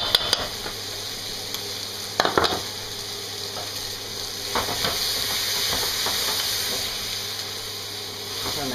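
Beef and tomato paste frying in a pan, a steady loud sizzle with hiss and steam throughout, broken by scraping, stirring clatter from a utensil.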